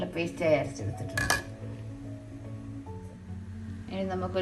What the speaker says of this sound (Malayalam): ഇനി നമുക്കൊരു ചട്ടി അടുപ്പിൽ വെച്ച് സ്റ്റൗ കത്തിക്കാം.